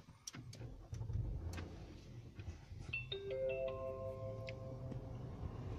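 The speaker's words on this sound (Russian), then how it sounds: "Значит, включаем зажигание." Ignition switched on in a 2013 Nissan Teana: a quiet cabin with a few soft clicks, then a short run of electronic chime tones from the dashboard at low volume.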